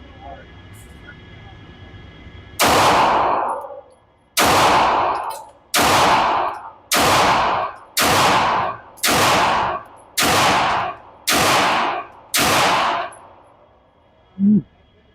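Nine loud handgun shots from a Match X pistol at an outdoor range, fired in a steady rhythm of roughly one per second, each with a sharp crack and short ringing tail, followed by a faint metallic clink.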